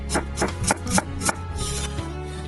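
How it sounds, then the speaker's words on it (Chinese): Knife slicing a peeled radish into thin slices on a cutting board, a quick run of crisp chopping taps in uneven rhythm followed by a softer scraping rub, close and clear. "准备一个萝卜，去皮，再把它切成薄片"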